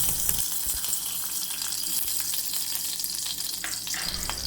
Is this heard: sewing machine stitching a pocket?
no